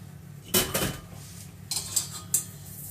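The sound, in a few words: sifting caster sugar, brown sugar and cocoa powder into bowl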